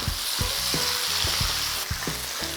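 Garlic for pork adobo fries in a hot pan, a dense steady sizzle broken by regular scraping strokes of a utensil stirring it around, close and loud with no talk.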